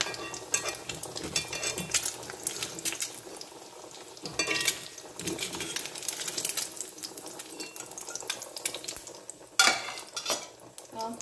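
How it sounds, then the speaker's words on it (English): Quail eggs frying on a hot tawa, with a continuous close sizzle and crackle of oil, broken by occasional scraping and clinking of a metal spatula stirring against the griddle. "I'm just trying to fry, but boiling is more easier."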